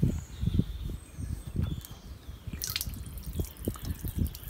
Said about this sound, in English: open the grey water tank, let out any waste that we've had overnight